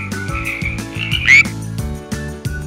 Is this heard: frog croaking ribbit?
yes